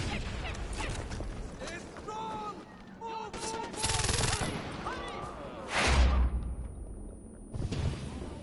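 Gunfire in the Far Cry 4 video game, several sharp bursts of shots over game sounds and someone talking, with a loud blast near the end.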